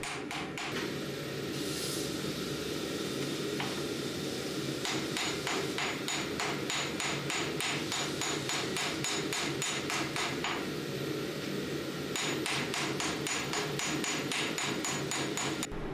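Light hammer blows forge a knife billet, a fast even run of small taps on hot steel, then a pause and a second steady burst, close and clear with no talk.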